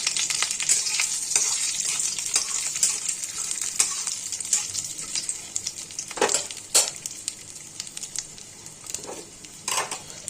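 Dried red chillies and panch phoron crackle and sizzle in hot oil, a steady bright hiss dotted with sharp pops and a few louder spits as the spices fry.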